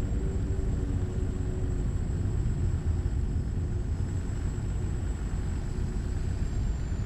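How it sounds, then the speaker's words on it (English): A plane passing in a driving video game, heard as a steady low rumble blended with car engine noise throughout, with no clear rise or fade and no speech. "Did you guys hear that plane?"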